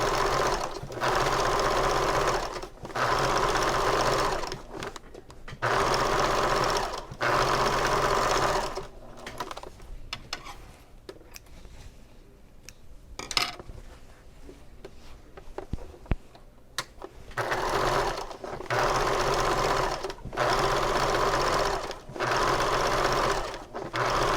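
Sewing machine joining bag lining pieces with nested seams, running in several loud bursts with a quieter pause in the middle, close up and with no talk.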